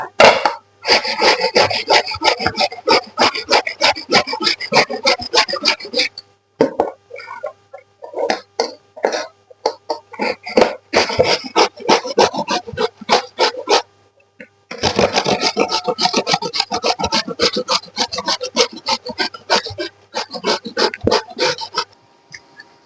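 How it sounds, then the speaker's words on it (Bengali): Ash gourd being sliced on a vegetable cutting machine, giving dense runs of rapid rasping, scraping cuts in bursts with short pauses between, close and fairly loud with no talk. "এখন আমি মেশিন দিয়ে এইভাবে আমি কেটে নিব।"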